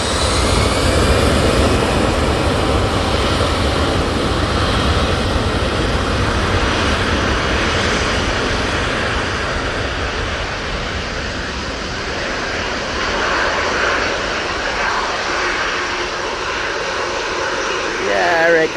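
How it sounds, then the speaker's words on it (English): An EasyJet airliner lined up on the runway at Manchester Airport, its jet engines giving a loud, steady roar that holds for the whole stretch and swells slightly near the end, with a voice talking over it. "EasyJet lined up, ready to go."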